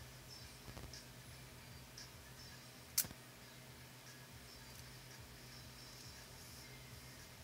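A single sharp mechanical click of a Canon Demi EE17 half-frame film camera's shutter stands out once against a faint, steady background hiss.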